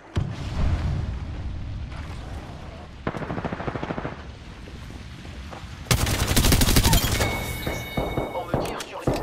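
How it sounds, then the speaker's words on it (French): Automatic gunfire in the Apex Legends game aimed at the player, bursts of rapid shots growing loud and dense toward the end amid game effects. "On me tire sur les coups, on m'a mis à terre."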